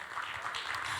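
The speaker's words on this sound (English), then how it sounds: "Can we give a round of applause?" An audience at a real estate podcast conference session claps in a soft, even patter of applause, faint and brief, with no talk over it.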